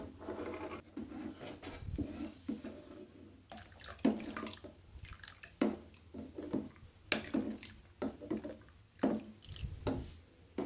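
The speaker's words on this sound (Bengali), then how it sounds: "এবার দেখো আমি অল্প অল্প এই ভিনেগারে জল মেলানো জলটা দেব আর একটু এভাবে নাড়বো" Diluted vinegar water poured little by little into hot milk on a low gas flame while it is stirred to curdle paneer, heard as close, irregular splashing, dripping and scraping stir strokes.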